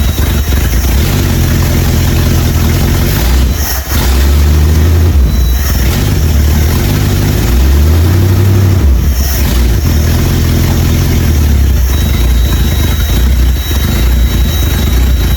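The engine of a neglected 1978 Dodge D150 that sat for 20 years revs up and settles back several times while in neutral, loud and close, with a constant rough drone and no talk.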